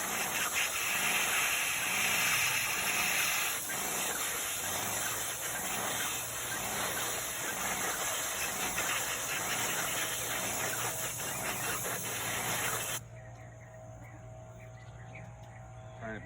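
Graco Magnum X5 airless paint sprayer running during cleaning with the filter reversed to blow back through the orifice, a loud steady hissing spray with motor hum that cuts off abruptly near the end, leaving a quieter drone.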